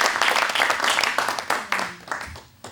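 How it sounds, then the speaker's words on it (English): Audience applause at a magic show for two participants, a short burst of clapping that thins into scattered claps and fades within a few seconds. "nice round of applause for both of these two"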